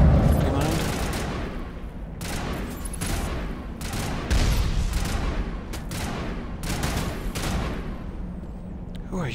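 Gunfire in a Mass Effect firefight: repeated bursts of shots crack out at irregular intervals over steady battle rumble, near and loud, with a voice talking underneath.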